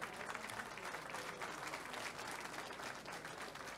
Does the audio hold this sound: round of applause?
yes